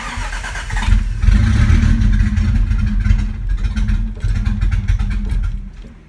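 A Toyota 7M-GTE engine with a twin-disc clutch cranks over with the fuel pump off, giving a loud, steady low churning drone that runs for about five seconds and fades at the end.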